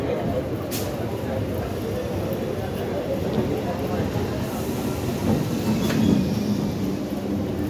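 A local train rumbles steadily through B.B.D. Bag station, a continuous loud low roar of wheels and carriages with faint clatter throughout.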